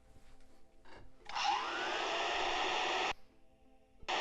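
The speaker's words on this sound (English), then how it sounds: "Another vacuum cleaner starts up." A vacuum cleaner whirs to life in Gabriel Knight: Sins of the Fathers, a steady broadband roar that kicks in abruptly, holds for under two seconds and cuts off, with quiet room tone before and after.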